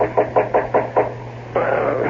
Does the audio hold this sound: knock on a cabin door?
yes